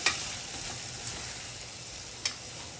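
Kashmiri red chili powder stirred once into a frying mixture in a pan, with a soft, even sizzle throughout and three brief spoon taps spaced across the short stretch, no voice.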